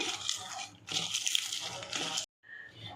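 A hand squeezing and mashing aloo, tomato and coriander leaves in liquid, giving wet squelching and sloshing bursts in two long passes, then a brief pause before softer squishing resumes, close and fairly quiet.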